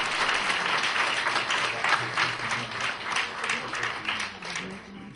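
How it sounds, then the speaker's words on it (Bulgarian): A crowd at a fashion award ceremony applauds steadily for several seconds, dense clapping filling the hall with a few voices faintly mixed in. "Аплодисменти,"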